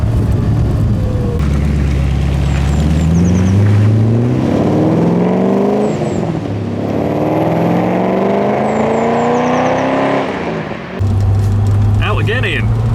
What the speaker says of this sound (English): so Steve's finished the MG RV8, and we can now go out and just make sure we're happy with it